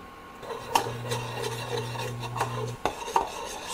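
A utensil stirring Dijon mustard, brown sugar and balsamic vinegar into bacon jam in a pan on a cooktop, soft scraping and rubbing strokes with a few light taps, close and alone.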